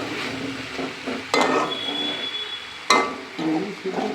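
A pumpkin chhokka is stirred in a pan over low frying sizzle, with two sharp clanks of the spoon against the metal and soft scraping between them.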